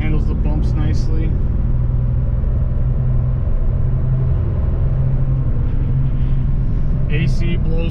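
A 1991 Porsche 928, black on black, drives along a road with a steady low engine rumble and road noise throughout, heard from inside the cabin.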